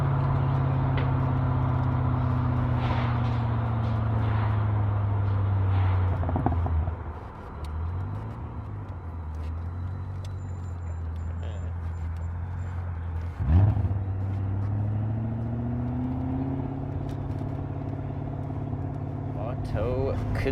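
A BMW E34 540i V8 with a Magnaflow exhaust and resonator delete drives at moderate street speed, its steady low exhaust drone rising and falling with gear changes and throttle, heard from inside the car.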